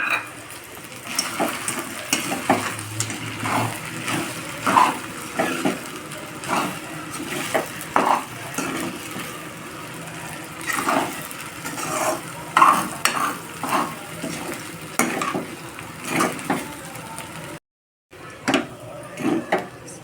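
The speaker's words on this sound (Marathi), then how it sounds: "सगळं चांगलं मिक्स केलं मी।" Sabudana and potato khichdi with crushed peanuts and whole peanuts being stirred in a pan, repeated scraping and clinking of a spoon against metal over a low sizzle, close, with one brief silent gap near the end.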